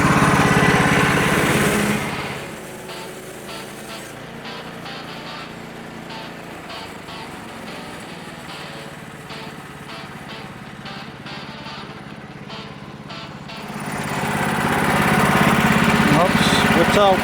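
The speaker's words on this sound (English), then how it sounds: "We're going to take our first cut for a 2 1/4 mill house floorboard." Engine-driven sawmill cutting a log into a 2 1/4 floorboard at an off-grid homestead, a loud buzzing engine that settles to a steadier whine during the cut with light rhythmic ticks, then revs up again.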